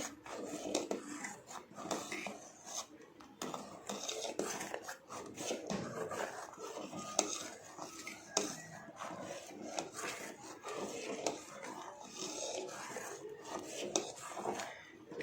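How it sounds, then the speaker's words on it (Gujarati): A spoon works steadily around a pan of thickening milk over low heat for homemade ice cream, producing continuous close scraping and rubbing strokes at a soft level throughout. "તેને આ રીતે ધીમા તાપે હલાય હલાય જ કરવાનું જેથી કરીને તે ચોંટે નહીં નીચે"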